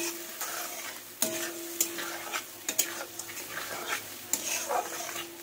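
Spice masala with a pinch of sugar frying in oil in a pan for a muitha recipe: a steady close sizzle broken by repeated scrapes and knocks of a spoon stirring, with no talking.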